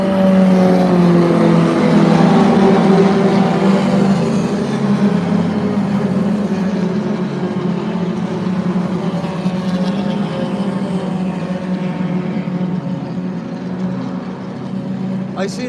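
Modified Ford race cars, an Escort Cosworth leading, charge past on the Spa circuit, a loud sustained engine roar that swells and slowly fades, with a commentator talking over it.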